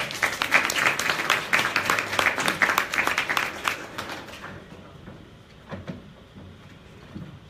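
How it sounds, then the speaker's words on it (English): Audience applause at a live K-12 startup pitch event: brisk, dense clapping for about four seconds that then drops off to a few scattered claps and quiet room noise. "A round of applause."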